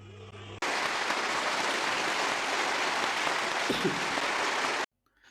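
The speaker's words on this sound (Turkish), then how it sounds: "Bu kadar alkış aldı." A crowd applauds steadily for about four seconds at a Turkish political gathering, a dense wash of clapping that starts abruptly and then cuts off, leaving near silence.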